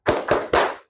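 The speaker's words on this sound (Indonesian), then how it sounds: "Kita ice breaking dulu mengenai tepuk fokus ya." A class group claps in unison as a classroom focus chant, with three sharp, evenly spaced claps close by and no voices.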